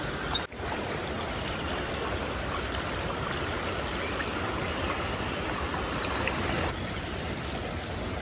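A forest stream flows steadily on a crab-catching trip, its broad, continuous rush of water filling the scene at close range with no pauses and no voices.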